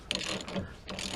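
Torque wrench tightening a 24 mm suspension nut on a 2005 Pontiac GTO, giving a brief burst of close ratcheting clicks in two quick pulls.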